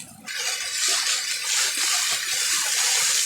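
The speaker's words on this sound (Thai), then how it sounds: "มันเล่นไหลโค้งนี่แล้วก็น้ำตกตาดยังสวยงาม" A waterfall flowing, heard as steady, loud rushing and splashing water that starts abruptly after a brief quiet moment and continues unbroken, close by and without talk.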